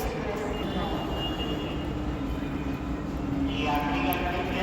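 A busy railway station, Patna Junction, with the steady low rumble of trains and a crowd murmuring, continuous and fairly loud throughout.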